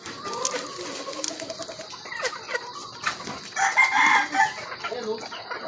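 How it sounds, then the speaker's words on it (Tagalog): Chickens clucking and a rooster crowing nearby, a busy mix of short clucks with a louder drawn-out crow partway through, over faint background murmur. "Papainom tayo ng manok."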